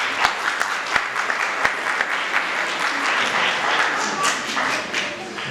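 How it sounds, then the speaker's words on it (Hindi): At a Christmas interfaith harmony gathering in a press club, the crowd breaks into applause. A few sharp, distinct claps come first, then the clapping thickens into a sustained, lively round. "मैं चाहूँगा कि सबसे पहले पीटर आमी साहब के लिए बहुत सारी तालियां।"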